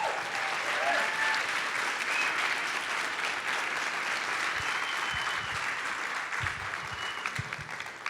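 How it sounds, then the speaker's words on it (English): An audience at a chiropractic gathering gives a sustained round of applause, steady and dense at moderate distance, with faint voices and a few low thumps toward the end. "please give them one more big round of applause"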